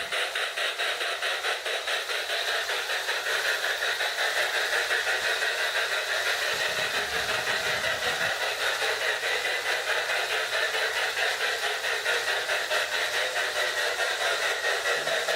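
A Marx 666 toy train locomotive with a smoke unit runs laps on its track, giving a steady, continuous mechanical whir and buzz that holds at a constant level throughout, with no voices.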